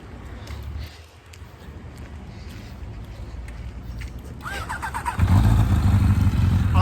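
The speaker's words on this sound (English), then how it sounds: "I hear that motorcycle." A motorcycle engine rumbles in the distance, then grows louder and revs with a rising, throaty roar near the end, with some background noise.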